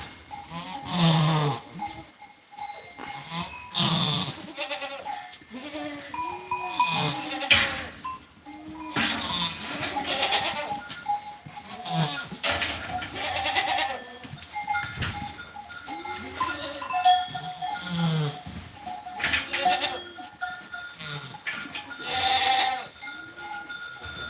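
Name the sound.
goats bleating on a farm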